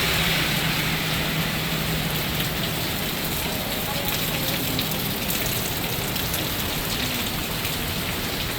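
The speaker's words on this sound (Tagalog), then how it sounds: "Ang lakas ng ulan." Heavy rain pours down steadily in Singapore near Lucky Plaza, a loud, dense hiss of drops hitting surfaces that never lets up, with faint traffic rumble underneath.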